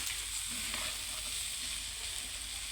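Potatoes frying for aloo bhaji without green chillies, a dense, continuous hiss of oil sizzling steadily at an even level throughout.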